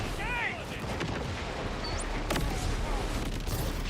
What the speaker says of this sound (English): I hear explosions coming from Thomas's direction.